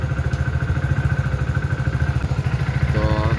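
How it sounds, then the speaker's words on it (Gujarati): A Royal Enfield Hunter 350 motorcycle idles as it warms up, its single-cylinder engine thumping in a fast, even, close-up pulse that stays steady throughout. "આપણી બાઈક ગરમ થાય છે જુઓ તમે."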